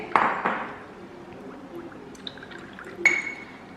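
Milk poured over oats for overnight oatmeal: a short, close splashing pour at the start, then quiet container clinks and a faint ping.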